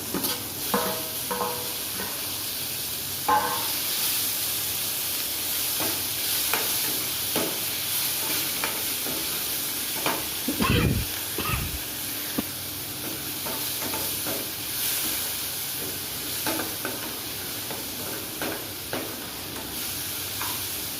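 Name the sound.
tomatoes added and stirred into frying dal tadka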